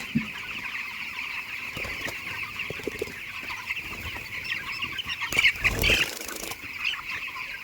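A crowd of poultry chickens in a farm shed clucks and chatters continuously at moderate distance, with a steady high murmur and occasional louder bursts and clatter.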